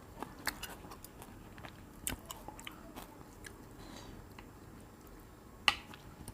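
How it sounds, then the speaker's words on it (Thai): Crunchy biting and chewing of fermented shrimp eaten with fresh raw vegetables, a series of close, quiet crisp bites and soft mastication with one sharper crunch near the end. "เดี๋ยวกัดกิน"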